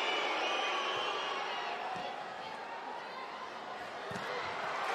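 Arena crowd at a women's Volleyball Nations League match between Turkey and China, cheering and roaring steadily at moderate distance with faint court thuds, while a commentator talks over it.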